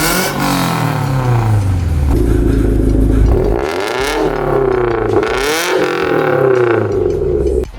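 A modified Toyota 86 with a full Valvetronic exhaust system revs hard and close, the engine climbing, dropping and climbing again in loud repeated sweeps with a raspy exhaust note.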